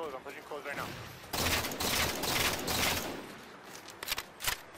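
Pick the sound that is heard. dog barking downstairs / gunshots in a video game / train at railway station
gunshots in a video game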